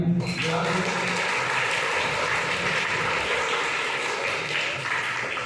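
A crowd at the closing ceremony of an annual coaching session gives loud, sustained applause for the girls who ranked top in an entrance test, a dense unbroken roar of clapping from start to finish.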